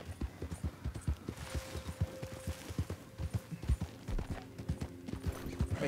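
Horse hooves clip-clop in Red Dead Online, a steady run of close, regular hoof strikes over a game soundscape, with faint tonal hum underneath.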